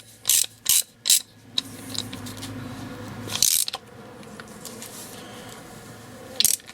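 A hand ratchet fitted with a 3/4 socket works a wheel stud on an MGA rear hub, giving three quick clicking bursts, then slower, scattered ratcheting clicks and a final burst, close up with no talk.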